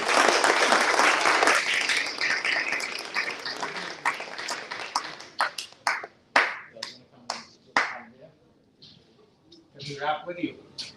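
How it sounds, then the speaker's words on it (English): An audience applauds students at a library launch opening: a dense burst of clapping that gradually thins out into scattered individual claps over about eleven seconds. "Give them a round of applause."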